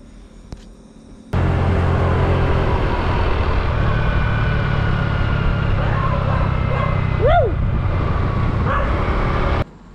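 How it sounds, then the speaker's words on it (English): Dogs bark in the early morning in Bali, a short bark rising briefly over a steady nearby road rumble of passing traffic, with the start quiet before the noise begins. "Obviously, you guys can hear the zombie dogs."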